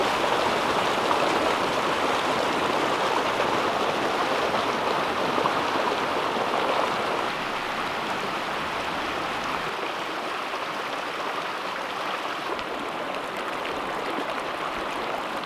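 A river rushes steadily beneath the Clarens bay viaduct, heard from down in the riverbed as a loud broadband roar of flowing water that eases slightly halfway through and continues unbroken.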